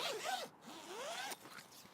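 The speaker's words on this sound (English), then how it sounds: "zip back this whole door part here" A zipper on the door of a Vango Sonoma tent awning runs open in a few quick, rasping pulls, close and fairly quiet, with no voices.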